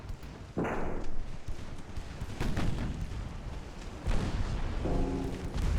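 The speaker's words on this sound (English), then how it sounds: "Secondary guns are racking up the damage" Naval secondary guns blasting from a French warship in Ultimate Admiral Dreadnoughts, heavy booms and rumbling reports overlapping in a continuous dense barrage.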